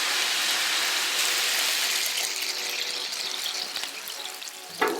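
Steak and green beans sizzle in teriyaki sauce on a Blackstone griddle, a loud, dense, continuous hiss with a brief sharper crackle near the end.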